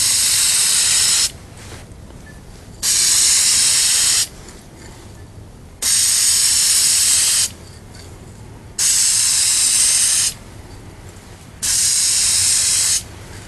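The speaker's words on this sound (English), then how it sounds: "Whenever you start or stop spraying, make sure it's off the edge of the piece." Spray can paint hissing onto a wooden boomerang in five separate pulsed bursts, each about a second and a half long, with short quiet gaps between them. The hiss is close and steady, and no one speaks.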